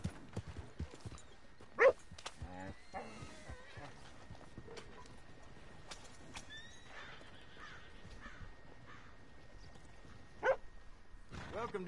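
Horse in Red Dead Redemption 2 giving a couple of sharp whinnies amid faint, scattered clip-clop hoof steps, heard close but quiet, with low voices in the background.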